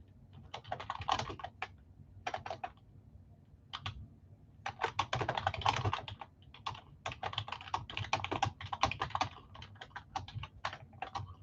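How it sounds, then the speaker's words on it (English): Rapid bursts of clicking from a computer keyboard, close and fairly loud, coming in uneven runs with short pauses between them, no voices over the keys. "And I'm typing the thing. I haven't finished typing it."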